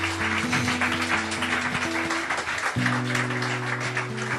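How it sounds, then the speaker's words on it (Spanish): Congregation applauding during a Spanish-language church worship service, a steady wash of clapping throughout with sustained organ or keyboard chords underneath. "Dale un fuerte aplauso al Señor."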